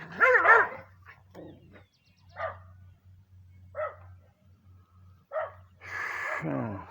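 A dog barks in short separate bursts outdoors beside a corn field, several sharp yips spaced a second or so apart with a low steady hum underneath, ending in a longer whining bark.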